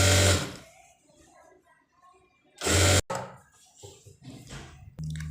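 A sewing machine joining a sleeve onto a dress made from an old saree whirs in two short, loud bursts, with someone speaking quietly in between and another brief run at the end.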